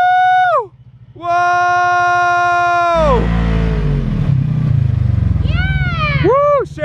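A dirt bike engine revs hard, its whine rising and falling in steady harmonic sweeps, then roars and blips loudly through a wheelie with bursts of throttle close by.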